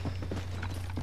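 Horse hooves clip-clop at a steady pace in the Red Dead Redemption video game, faint, quick, regular thuds over a low constant hum for about a second.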